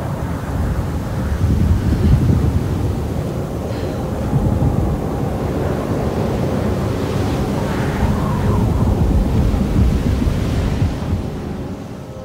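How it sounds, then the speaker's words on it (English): Strong wind and ocean waves on a coast in the Alone in the Dark video game, a loud, steady roar of surf and gusting wind that rises and falls without a break. "You can barely move because of the weather and how much intensive the wind is."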